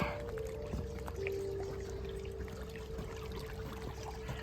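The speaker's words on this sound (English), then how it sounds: "Water's flowing nice." Gentle running water trickles and babbles steadily throughout, a small stream flowing close by with a low hum underneath and no talking.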